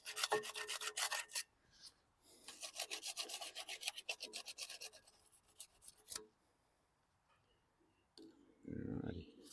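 A file is drawn over metal parts in quick bursts of rasping strokes, close and fairly quiet, separated by pauses, with a voice speaking briefly near the end.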